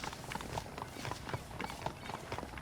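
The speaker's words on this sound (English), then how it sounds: "I asked Nastas to bring the horses around front" Horse hooves clip-clop steadily in Red Dead Redemption, a brisk repeated rhythm of hoofbeats at moderate distance over a busy background, with no talk.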